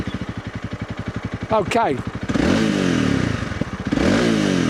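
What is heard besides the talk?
Honda CRF300 Rally single cylinder motorcycle engine starting up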